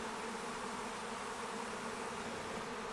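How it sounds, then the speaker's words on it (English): A honeybee swarm gathers at a swarm trap on an apartment balcony, a dense, steady buzz of many bees filling the air continuously, close and even in loudness throughout. "I just put this swarm trap here yesterday. I caught a swarm."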